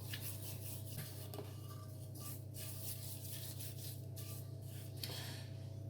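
Salmon being rubbed by hand with coarse salt, light brown sugar and pepper, a soft, steady gritty scraping and rubbing, faint and close, with no talk over it.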